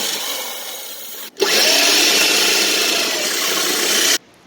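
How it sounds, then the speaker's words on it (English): A power drill bores a hole in the engine bay of an EK Honda Civic, grinding steadily for about three seconds after a brief pause, then stopping abruptly. The sound is close and continuous, with no voices. "I'm going to drill a hole in this spot over here"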